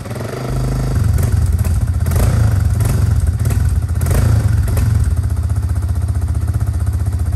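A motorcycle engine, started with the key, catches at about half a second and settles into a loud, steady, close idle with a rough, clattering pulse that continues throughout.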